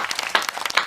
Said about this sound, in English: Clap it up for Zach.